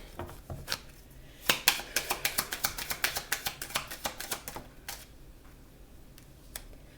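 A deck of oracle cards is shuffled in a rapid run of crisp, close riffling snaps that build in the middle and taper into a few scattered taps, with no voices.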